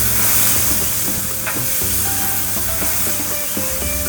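Spicy lamb chops sizzle over an open flame, a steady, loud frying hiss with crackles and faint scraping running unbroken throughout, no voices.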